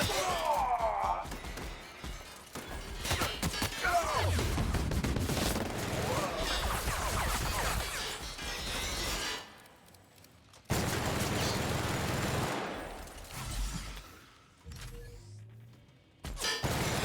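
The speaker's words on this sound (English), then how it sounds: "Oh, that stupid gun turret!" Gun turret firing in The Outer Worlds: bursts of rapid gunfire and crashing impacts over game sounds, breaking off into brief quiet gaps before resuming, with a voice talking over it.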